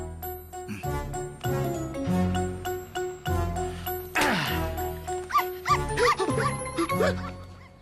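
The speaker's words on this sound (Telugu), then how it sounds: "కుక్కని తెచ్చావేంట్రా?" In a Telugu film comedy scene, a dog barks over and over at close range, loud and insistent, breaking into higher yips and whines toward the end.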